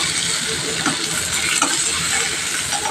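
Mango pieces for a sweet-sour-spicy mango pickle sizzle and fry steadily in a pan, a dense continuous crackle with occasional soft stirring clinks, close and fairly loud with no talking.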